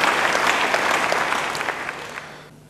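A church congregation breaks into applause during a sermon, a dense wash of many hands clapping that tapers off near the end.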